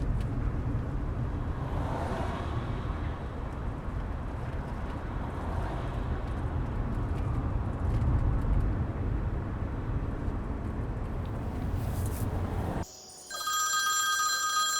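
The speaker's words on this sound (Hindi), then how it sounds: "नाज़ली का फ़ोन है।" A telephone starts ringing near the end with a bright, tonal ringtone that cuts in clearly over a steady rumble of vehicle or road noise that fills the rest.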